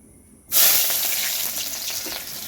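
Chopped onion hits hot oil in a home kitchen pan and sets off a sudden loud, steady sizzle that fades slowly. No one speaks.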